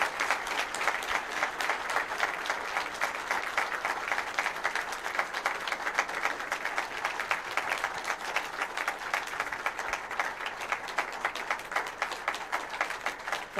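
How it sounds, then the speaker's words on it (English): Audience at an Axian Telecom corporate event applauding to welcome the company's CEO, sustained, even clapping from a large crowd, steady and dense throughout with no voices over it. "let's clap as we welcome the CEO of Axian to just say a word"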